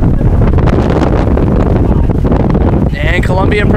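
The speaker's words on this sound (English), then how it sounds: "there is a very strong gust right now" A strong gust roars across open water during a lightweight men's collegiate rowing race with whitecaps, loud buffeting wind noise on the microphone, and a brief whistling tone near the end.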